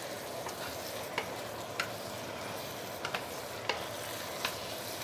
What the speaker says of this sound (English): all you want to do is to mix everything nicely together, and you don't really have to fry because the bihun is already cooked